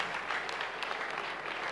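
Congregation applauding for Jesus Christ at a church deliverance testimony, a steady, dense wash of many hands clapping together throughout, fairly close and continuous with no talk over it.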